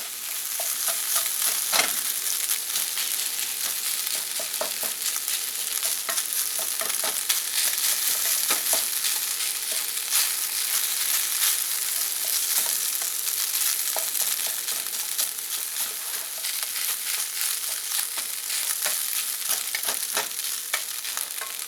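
Ground beef fries and crackles in a pan while being stirred, a steady sizzle punctuated by repeated scraping and clinking of the utensil, with no speech.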